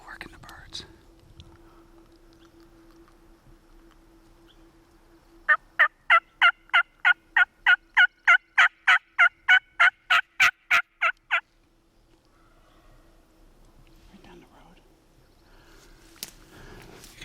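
Wild turkey gobbles during a spring turkey hunt on public land in Washington: a single long rapid rattling gobble burst of about six seconds, loud and fairly close, surrounded by quiet outdoor ambience with faint whispering before and after.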